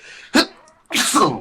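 A single sharp sneeze bursts out, followed after a short pause by a nearby voice speaking.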